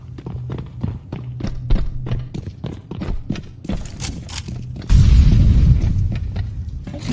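Rapid shotgun blasts and footsteps during a rushing attack in Counter-Strike 2, a string of sharp booming reports over running, then a louder sustained burst of action near the end.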